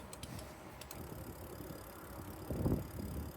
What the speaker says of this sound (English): Wind drops down a little bit once we get back in these trees.